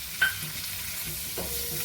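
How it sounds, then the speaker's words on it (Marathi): Steamed green peas are sautéed in a pan, giving a quick scraping stir near the start and another near the end over a soft, low sizzle. "आता यामध्ये मी हिरवे वाटाणे घालते वाफवलेले"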